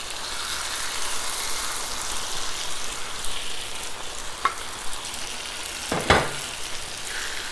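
Fish sizzles steadily in a pan of cooked-down tomato sauce, a soft continuous frying hiss, with a couple of brief knocks and scrapes from utensils.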